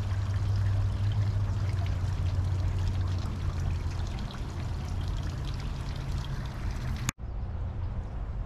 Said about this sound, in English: Water just flows down through there.